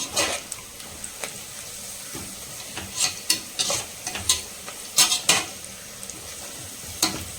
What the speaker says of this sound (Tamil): வெங்காயம் நல்லா வந்து வதங்கணும், ரொம்ப வதங்கிடக்கூடாது.